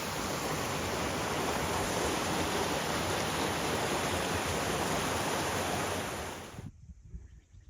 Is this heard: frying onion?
no